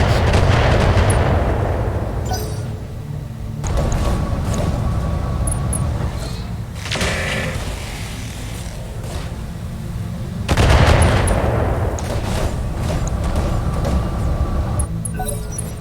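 Mechs launch missile salvos in the BattleTech game, with loud, rumbling volleys of rapid launches and booming impacts, several overlapping waves surging and fading in the foreground.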